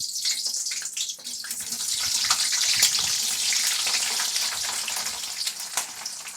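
Shredded cabbage frying with spices in a pan, a continuous bright hissing sizzle with crackly pops that holds steady and close for the whole stretch, with no talking.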